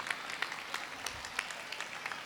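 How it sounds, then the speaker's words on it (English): Faint, distant clapping from students at a school annual day prize ceremony, a soft continuous patter with occasional sharper claps, heard from afar in a large hall. "Students, give them a big hand of applause."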